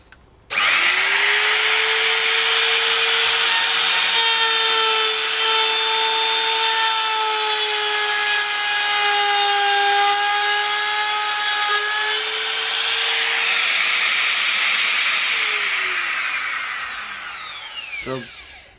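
Makita 3710 trim router cutting a groove in wood with an angled base, a loud continuous high-pitched motor whine with shifting cutting tone for about sixteen seconds before winding down.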